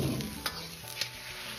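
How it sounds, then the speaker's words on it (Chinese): Tofu pan-frying in hot oil over medium heat gives a steady close sizzle, with a couple of soft clicks from a utensil as the pieces are turned. "再翻面煎另一面"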